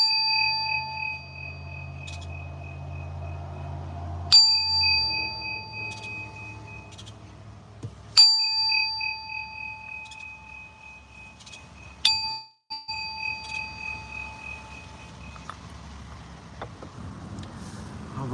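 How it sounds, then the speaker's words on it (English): A Tibetan singing bowl is struck about every four seconds. Each clear metallic ding rings with sustained high overtones and a low hum, then fades slowly. The bowl sounds close and moderately soft, with no talking. "we got a little sound bowl healing to start the reading"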